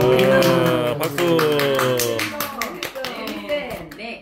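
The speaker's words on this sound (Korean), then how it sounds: "박수." An audience claps at a Korean autobiography book launch event. The applause is a dense patter of many hands, swelling early and then thinning out, with voices mixed in.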